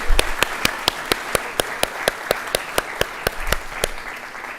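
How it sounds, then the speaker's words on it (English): Audience applause for graduates at a 2022 graduate school of education graduation ceremony, steady crowd clapping with sharp individual claps standing out in a regular rhythm, fairly close and moderately loud, no talking. "so huge applause for all of those"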